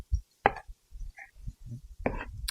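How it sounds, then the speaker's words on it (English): A knife chops through lettuce in thin strips for tacos, a handful of sharp, close knocks on a board spaced irregularly, with a quick flurry of cuts near the end. "I'll just run my knife through them again"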